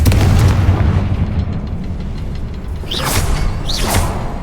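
Confringo fire spell bursting in Hogwarts Legacy: a rumbling, booming blast with a churning low roar, then two sharp rising whooshing bursts near the end, loud and close.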